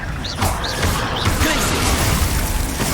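A Confringo fire spell blast crashes out in the Hogwarts Legacy video game, a loud, dense burst of smashing impact noise that sustains for several seconds amid chaotic combat clatter.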